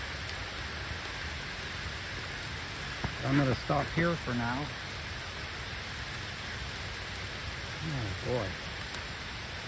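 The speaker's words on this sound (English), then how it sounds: "you can hear the rain falling on that thin lid" Rain falls on the thin lid of a Layens beehive as a steady, even patter and hiss throughout, while someone speaks briefly now and then.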